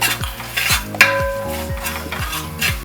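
Thrissur-style chicken masala stirred in a pan: rhythmic, close scraping strokes of a spoon against the pan over a soft sizzle, with one sharp metallic clink partway through, no talk.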